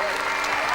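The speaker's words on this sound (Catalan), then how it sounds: "Un fort aplaudiment!" Brief burst of dense applause from a crowd welcoming a symphonic festival band, loud and continuous with no gaps between claps.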